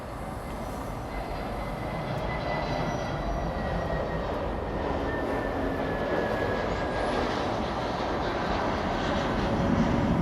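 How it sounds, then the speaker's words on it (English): A Delta Airlines Boeing 737 jet roars past in a steady, broad rumble that holds loud and even, swelling slightly toward the end. "Delta Airlines 2606 flying to Seattle, Washington, A737"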